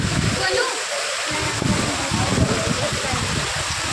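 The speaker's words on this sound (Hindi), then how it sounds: "यहाँ पानी गिरता है ऊपर से।" Water falls from above at a temple in a gurukul in Surat, Gujarat, a steady close splashing rush under a voice talking throughout.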